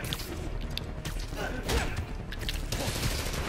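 Gunfire from enemy shooters in the Spider-Man video game rattles in bursts of shots and thuds over a busy, dense background of game noise, with some talk mixed in.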